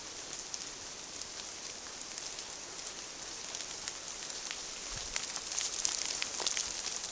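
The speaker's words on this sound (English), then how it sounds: "yet again we can hear the rain on the trees" Summer rain falls on a leafy tree canopy along a woodland walk, a soft steady hiss dotted with faint scattered drips that grows slightly heavier toward the end.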